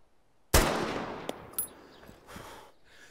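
A single sharp rifle shot in Arma 3 rings out with a long echoing tail, followed by a few fainter distant cracks and clinks as the reverberation fades.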